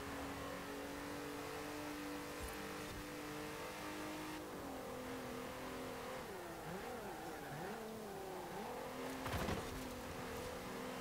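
Front-wheel drive car engine racing in Forza Horizon 4, a steady loud drone that rises and falls in pitch with gear changes over eleven seconds, with a brief burst near the end.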